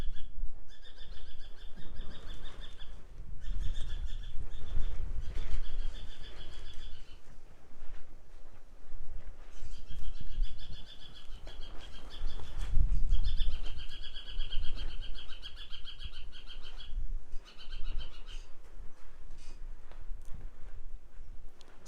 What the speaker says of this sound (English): You can see a bird up on the wire up here as well.